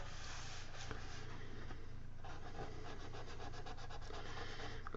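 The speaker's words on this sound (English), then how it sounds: "what I do is I just kind of rub this until it starts to go away" A cotton swab is rubbed close-up over a model kit seam, making a soft, continuous dry scratching and brushing sound that stays steady for several seconds with no talking.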